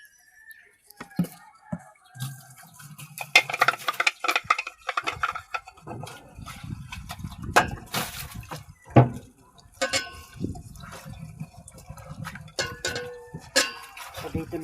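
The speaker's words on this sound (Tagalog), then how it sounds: "dito na ako hugas na pinggan" Dishes clink and clatter irregularly up close while water splashes, with scattered knocks of plates and utensils being handled.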